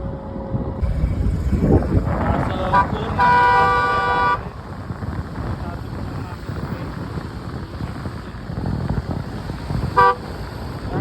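Vehicles honk on a busy road, with a short toot early on, a long sustained horn blast, and another quick honk near the end over steady traffic rumble and some talking.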